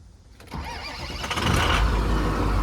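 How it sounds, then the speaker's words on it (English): A 2006 Ford 6.0 Powerstroke diesel, just fitted with new injectors, cranks and fires, its starter whir giving way to a loud, steady diesel idle that grows stronger and settles into a rough, close-up rumble. "Okay, the starter fired."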